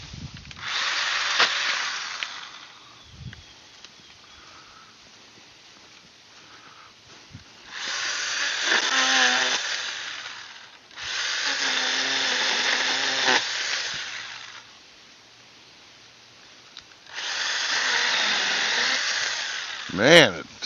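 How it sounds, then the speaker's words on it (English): A Stihl pole saw whines through tree branches in four separate bursts, each a few seconds long, with quiet gaps between the cuts and a short sharp rev at the end. "it just saws through those trees like butter"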